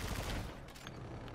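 Gunfire in the video game Call of Duty: Infinite Warfare, a dense burst of shots close up and loud at the start, fading into a rougher rattle of fire that continues without pause.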